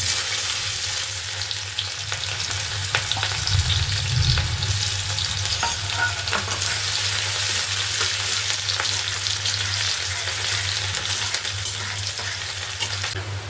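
Finely chopped small onion fries in hot oil with a continuous loud sizzle and crackle, an occasional stirring scrape rising briefly, no one talking.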